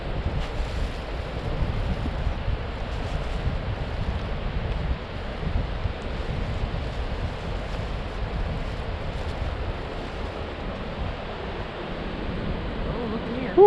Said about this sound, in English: listen to the roar of that ocean today